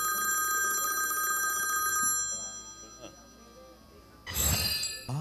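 A telephone bell rings steadily and loudly for about two seconds, then cuts off; a short clatter follows, then a louder burst of sound near the end, with voices in the room.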